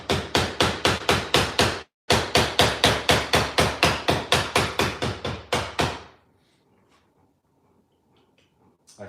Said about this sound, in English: if you don't want to deal with hammering and loud noises, you're going to have to leave the channel